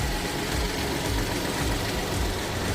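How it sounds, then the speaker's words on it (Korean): A car engine with 170,000 km on it idles steadily up close, a continuous low rumble with a faint rhythmic knock and no voices. "17만 킬로 주행한 엔진 사운드 한번 들어보시기 바랍니다."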